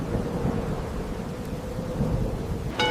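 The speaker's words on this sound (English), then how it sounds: "As the celebration continued, a terrible storm arrived." A rolling thunder rumble fills a stormy night, a dense low roar with rain hiss that swells steadily, ending in a sharper crack near the end.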